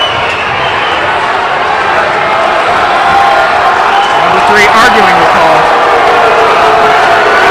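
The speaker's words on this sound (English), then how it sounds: "the crowd is getting loud" Home crowd roaring and cheering at a Utah high school boys basketball game, Skyline at Corner Canyon, loud and sustained, swelling slightly midway, with a commentator talking over it.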